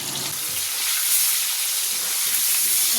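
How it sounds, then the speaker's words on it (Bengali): Chicken pieces frying in a large wok over a big gas burner, a loud, steady, broadband sizzle that holds without a break throughout. "চিকেনগুলো আমি ভেজে নিই।"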